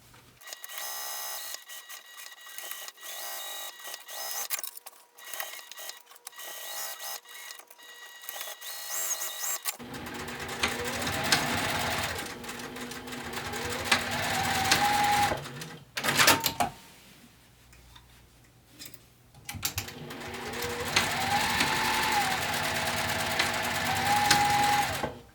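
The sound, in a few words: sewing machine stitching a fabric pouch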